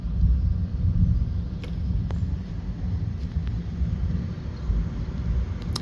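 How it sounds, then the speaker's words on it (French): Heavy thunder rolls through a violent storm in Bordeaux in June 2025, a loud, continuous low rumble with a few sharper cracks, heard without speech. "Il y a de quoi devenir sourd, hein, vu la violence du tonnerre."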